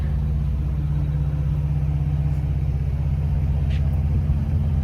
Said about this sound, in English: Sounds like a regular truck now. You can actually hear the motor.